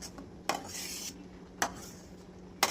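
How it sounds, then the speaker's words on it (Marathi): A spoon stirs a thick tricolour sweet mixture in a metal pan, giving three sharp scraping clinks spaced about a second apart over a faint background hiss. "लक्ष देऊन पटपट हलवायचं ह्याला."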